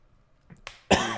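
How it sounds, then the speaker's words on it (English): A single sharp cough, close and loud, preceded by a couple of faint throat sounds. "big gulp there and a cough"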